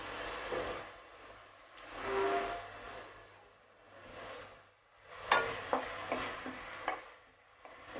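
Veg crispy mixture with black pepper being stirred in a pan over a medium-low flame, waves of sizzling with several scraping strokes and a few sharp clinks of a spatula, no talk.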